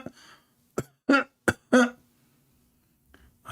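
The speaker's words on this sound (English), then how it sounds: "It's time to cough." Several harsh coughs and throat-clearing bursts, close and loud, in a quick irregular cluster, followed by a quiet hum and a faint breath.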